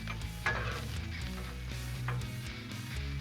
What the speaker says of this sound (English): Let's give our onions a stir now